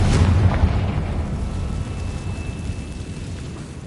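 A Confringo fire spell bursts in Hogwarts Legacy, a loud low boom at the start that rolls into a long, steady rumbling roar which slowly fades but never fully dies away.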